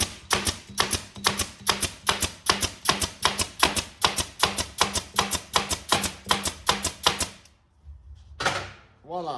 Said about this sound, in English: Staple it.